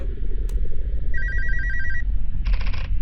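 In the video game Alone, a telephone rings in a loud electronic trill lasting about a second, preceded by a brief click and followed by a short burst of noise over a low rumbling background.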